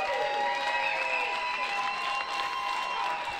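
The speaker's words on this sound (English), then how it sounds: "A huge applause to the runner-up, Jordan Shepherd." Applause from the crowd at the grand final of a pool shootout in Aberdeen, honouring the runner-up. It forms a steady, moderate wash of clapping that holds throughout, with tonal hum lines and faint voices mixed in.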